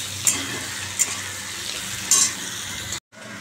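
Green peas, green chilies and nigella seeds fry in a wok with a steady close sizzle, broken by a few sharp utensil clinks before the sound cuts off abruptly; no one speaks.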